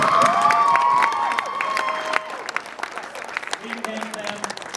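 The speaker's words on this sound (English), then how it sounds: "Give them just a big round of applause" Applause for convention staff and volunteers at the SNAFU Con 2017 fan convention, with clapping and crowd cheers mixed with voices that fade after the first second into scattered claps and chatter.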